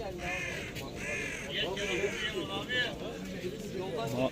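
Caged birds at the Edirnekapı bird market in Istanbul chirp and caw in repeated calls over a busy crowd murmur, with nearby talk throughout.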